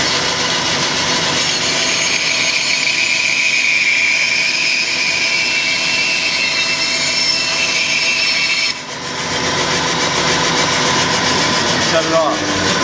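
A bandsaw cuts straight through a workpiece in a shop, giving a loud, continuous close whine and rasp that runs for most of the stretch, dips briefly near the end, then carries on.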